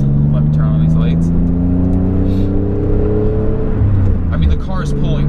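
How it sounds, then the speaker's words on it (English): A Nissan 300ZX accelerates on a highway after a misfire repair, its engine note rising steadily and loud from inside the car, with someone talking over it. "now I'm on the highway. We'll see how the car pulls"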